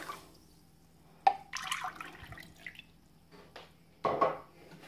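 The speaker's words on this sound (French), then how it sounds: "je vais mettre le sucre dans une marmite à fond épais. Je vais ajouter à ça, comme je vous ai dit, 2 mesures d'eau." Water is poured into a heavy-bottomed pot of sugar, giving a few short splashing and trickling bursts separated by quiet gaps, close by and fairly soft.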